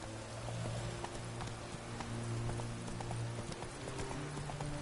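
Horse hooves clip-clop steadily in The Witcher 3: Wild Hunt, a continuous moderately loud rhythmic trot over ambient game background, with no talk.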